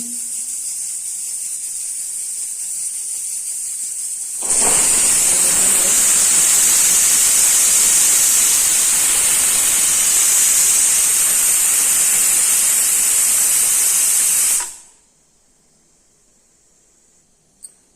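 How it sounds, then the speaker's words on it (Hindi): A loud, sustained pressure cooker whistle with rushing steam hiss bursts in while cooking a vegetable dish, holds steady for about ten seconds, then cuts off abruptly. "दूसरी सीटी आ गई है कुकर में"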